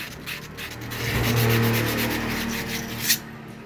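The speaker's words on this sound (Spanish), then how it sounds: "Solo es una pequeña lijada para que pueda funcionar bien." Steady, raspy sanding noise close by, continuous strokes of abrasive rubbing against a fan part over a low background hum.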